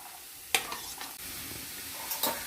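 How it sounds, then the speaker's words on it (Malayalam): Chopped beans and carrots fry with softened onion in a pan, a steady sizzle broken by a few sharp stirring scrapes of a utensil against the pan, close and fairly quiet. "സവോള നല്ലപോലെ വാടിയതിന് ശേഷം ബീൻസും ക്യാരറ്റും ചെറുതാക്കി അരിഞ്ഞത് അതിലേക്ക് ഇടുക"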